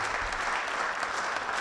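An audience applauds at a business export conference in Lyon, dense steady clapping throughout, fairly loud and continuous.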